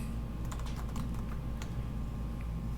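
Someone types on a computer keyboard while coding, quick irregular clusters of light key clicks over a faint steady hum, close and quiet, with a pause near the end before a last few taps.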